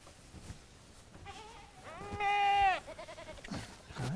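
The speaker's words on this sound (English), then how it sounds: "Come on, my Billy Goats." Billy goats on a Maui ranch bleat close by, one long wavering bleat in the middle with a shorter call before it and another at the end, against a quiet outdoor background.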